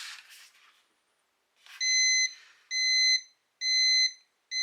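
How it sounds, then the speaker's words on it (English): A Multicomp Pro digital multimeter in NCV mode beeps in short, regular, evenly spaced tones after a brief rustle, signalling a live AC connection nearby; close and clear, with no talk. "The buzzer sound indicates it has a live AC connection."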